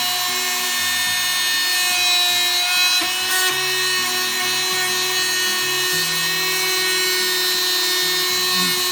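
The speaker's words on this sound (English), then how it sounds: "we're just using that multi-tool to get a fine edge without potentially damaging anything on the inside of there" An oscillating multi-tool cuts a metal RV awning brace on a Fleetwood Regal fifth wheel, giving a steady, close, high buzzing whine whose pitch shifts as the blade bites and eases.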